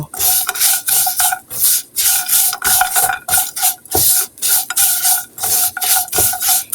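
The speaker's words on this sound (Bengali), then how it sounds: "এখন দিয়ে দিচ্ছি বাদামগুলি এখন সবগুলি আমি এভাবে একসঙ্গে মিশিয়ে নিব" A spoon scrapes rhythmically through semai vermicelli and nuts in a pan for jorda semai, with short rasping strokes repeating steadily at about two per second, close and loud.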